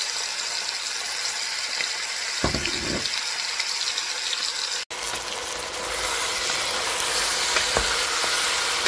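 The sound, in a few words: shrimp frying in hot oil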